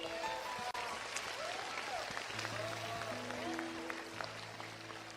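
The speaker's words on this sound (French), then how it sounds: "Offrez au Seigneur une puissante ovation d'applaudissements" A church congregation at a Manila gathering gives an ovation of applause: faint, steady clapping spread through the whole stretch, with tonal sounds and a voice faintly underneath.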